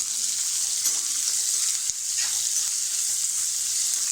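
Onion sautéing in a pan for a Malvani-style raw banana bhaji, a steady close hiss of sizzling oil running throughout with a brief soft knock near the middle.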